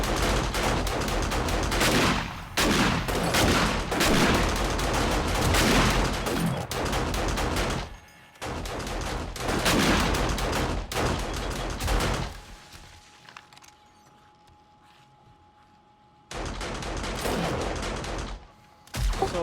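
Rapid automatic turret gunfire blasting at zombie mobs in the 7 Days to Die video game, dense continuous volleys that break off briefly and then resume, loud and close, with a quieter lull near the end and no talk.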